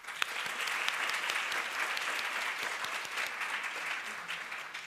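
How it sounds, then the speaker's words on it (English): An audience at a county animal-welfare event applauds with dense, sustained clapping that stays loud and even from start to finish. "So one more round of applause."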